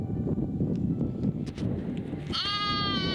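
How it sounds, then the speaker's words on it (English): One sheep bleat starts late and holds steady near the mic, after a stretch of low rumbling background and soft knocks, near a lake in southern Western Australia. "Hello, lost little sheepy."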